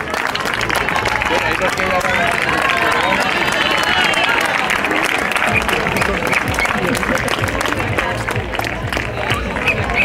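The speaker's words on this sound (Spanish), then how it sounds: "Claro, claro que hay que aplaudir." Spectators along the course of the Gijón half marathon clap steadily and loudly as runners pass, a dense continuous applause mixed with crowd chatter and nearby voices.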